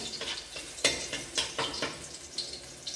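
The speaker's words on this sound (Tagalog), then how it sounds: "Ngayon, mainit na ang mantika, ilalagyan natin ang garlic." Garlic drops into hot oil and sizzles in a pan for chicken pochero, giving a quiet bed of frying with sharp spattering pops and crackles scattered irregularly.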